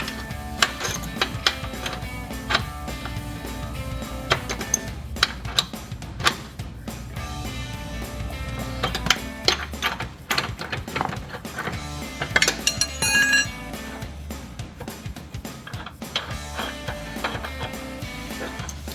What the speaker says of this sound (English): I can't really fit a 21mm socket on there, so I'm just using an adjustable wrench